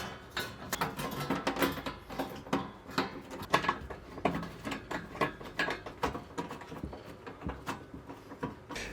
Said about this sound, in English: Reinsert the internal backplate and re-screw the 4 screws back in.